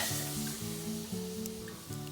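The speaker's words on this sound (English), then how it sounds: "Got some blood boiling up right there." Deer shoulder meat with a garlic crust sizzles steadily in a hot pan, a soft continuous crackle with faint tonal hum in the background, no voices.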